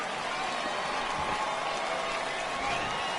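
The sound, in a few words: baseball home crowd cheering and applauding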